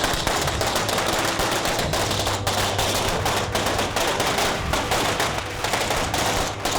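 Dense, continuous crackling of festival fireworks in Fujian, rapid overlapping bangs like a long string of firecrackers going off nearby, loud and unbroken throughout.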